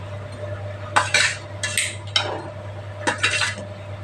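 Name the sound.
fish pieces being added to simmering curry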